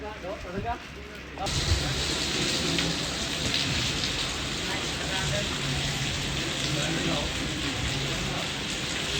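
Heavy rain pours down on Krishnagiri cricket stadium in Kerala during a match, a dense, loud, steady roar that sets in after a quieter opening moment and continues without a break.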